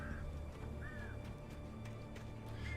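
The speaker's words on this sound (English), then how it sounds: "Things were chill and then the crows had to come out." Crows caw several times in the video game Alan Wake, moderately distant harsh calls spaced apart over a low, steady ambient game backdrop.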